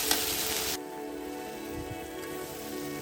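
Spices sauté in a pan with turmeric, salt and coconut milk, giving a bright, loud sizzle that suddenly drops to a softer, steady bubbling hiss.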